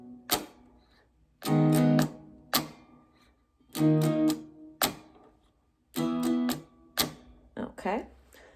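Guitar strumming in a strum, strum, rest, hit pattern, the hand slapping the strings for a percussive thunk; short bright chord bursts come in a steady repeating rhythm, close and clear with quiet gaps between.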